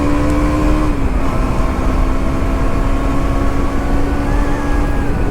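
A motorcycle engine accelerating during a night ride, a steady close droning tone that holds almost level with a slight pitch dip, mixed with wind rush.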